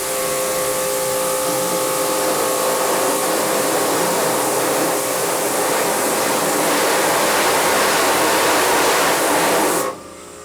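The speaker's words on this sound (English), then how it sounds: "So let's turn on our power washer." Power washer blasting water onto an exposed screen-printing screen to wash out the emulsion, a loud, steady broadband hiss and spray running continuously for about ten seconds before cutting off.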